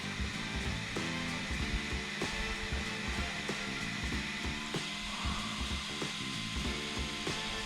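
The electric motor of a stretched Arrma Typhon RC car fitted with a Max 6 speed controller runs with a steady high whine and buzz, holding constant throughout with faint ticking on top, no voices.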